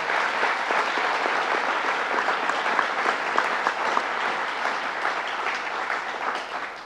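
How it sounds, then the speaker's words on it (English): Audience at a governor's public announcement hosted by a Boys and Girls Club in Rochester gives a round of applause, a dense, even clapping that stays steady for several seconds and eases slightly at the close. "let's give her another round of applause"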